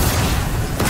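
A rocket launcher explosion in Destiny 2, one short, loud, close boom with a rumbling low tail and a brief crackle near the end.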